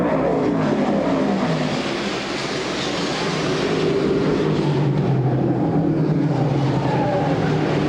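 Dirt track race cars roar down the front straightaway at a Super DIRT Week race, a loud, steady engine wash with no gaps that fills the whole stretch.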